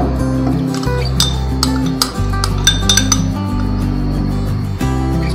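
Jaggery dropped into a saucepan of hot water in a home kitchen, giving a series of light metallic clinks and taps over a steady low hum.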